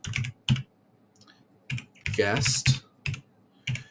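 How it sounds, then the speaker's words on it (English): Typing a terminal command on a computer keyboard: a series of distinct, close keystroke clacks in an uneven rhythm, with a voice briefly speaking in the middle. "So we're going to type sudo apt install"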